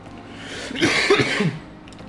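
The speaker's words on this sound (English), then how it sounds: "Oh my god, I'm coughing a bit." A single short cough fit, a couple of harsh bursts close to the microphone, over a quiet background.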